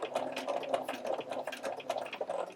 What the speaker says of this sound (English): I'm just trying to keep this lined up with this interior line on my presser foot so that I'm stitching a straight line